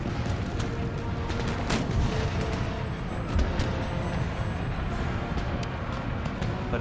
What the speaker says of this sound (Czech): Tak, tady se to střílí.